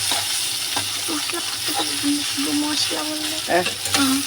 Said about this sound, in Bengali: কালো জিরে ফোড়ন দিয়ে লতিটাকে বসিয়েছি একটু ভাজা ভাজা হোক